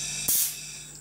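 A powder coating spray gun lets out a sudden short burst of hissing spray over a steady background hum, then fades back to the hum.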